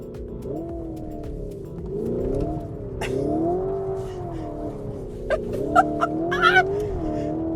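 A Lamborghini Urus SE engine rises and falls in pitch as the SUV is driven hard with oversteer, close and loud inside the cabin, with brief tire squeals and bumps toward the end.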